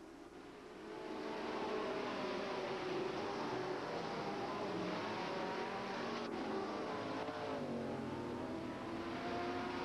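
Sportsman-class race cars roar around the Hales Corners Speedway oval in a feature race, a dense, steady pack of engine drone that swells in after a brief quieter start and holds loud and continuous with shifting revs.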